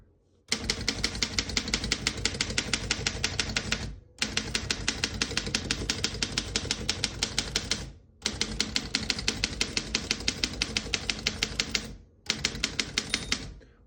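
Rapid, steady keystrokes clatter on a 1927 Underwood No. 5 vintage desktop typewriter in four long runs, separated by brief pauses.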